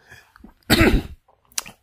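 A single sharp, rough cough up close, followed by a brief quieter throat noise and silence.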